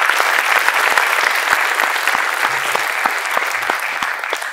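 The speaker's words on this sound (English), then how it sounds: "So a big round of applause for them." Audience applause for performers, including an orchestra, at a dance recital event: dense, steady clapping from a crowd that holds at a strong level throughout and tapers only slightly at the end.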